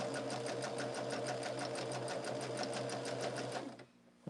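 Sewing machine stitching quilt sashing, a steady fast mechanical whir with rapid even needle clicks, close and clear, stopping abruptly near the end.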